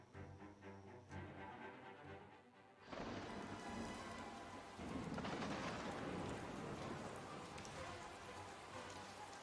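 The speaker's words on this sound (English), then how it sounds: "This rain's unbearable." Heavy rain pours down in a storm, starting lighter and then swelling into a dense, steady hiss with distant thunder rumbling underneath and no talking.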